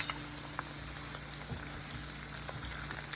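Stuffed bitter gourds frying in oil, a soft steady sizzle with faint scattered pops, quiet and close with no voices.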